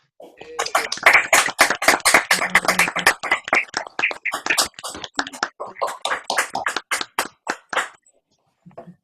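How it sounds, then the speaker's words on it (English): Poetry reading attendees on an unmuted video call applaud with a rapid string of distinct, close claps that thin out toward the end, with a brief murmur of voice at the start. "Please unmute yourselves for a round of applause for all of our wonderful poets"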